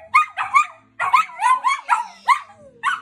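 A dog howls and yips along to a country song in a series of loud, close, melodic yowls and barks rising and falling in pitch, with brief pauses between phrases.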